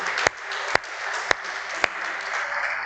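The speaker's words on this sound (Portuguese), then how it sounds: "aplaudi ao Senhor Jesus, porque Ele é digno" A church congregation applauding, dense sustained clapping with a few sharp louder claps standing out close by, steady throughout.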